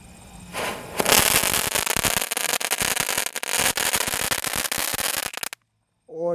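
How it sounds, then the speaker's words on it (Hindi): Diwali smiley firecracker going off outdoors at night, a loud rapid string of crackling bangs and pops lasting several seconds before cutting to silence. "और ये था हमारा स्माइली वाला पटाखा।"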